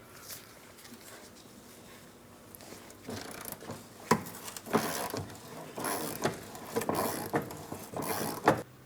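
Socket wrench work on the 21mm bolts of the rearward lateral link suspension on a 2004-2008 Pontiac Grand Prix: a quiet start, then a series of close metallic ratchet clicks and clanks in irregular bursts.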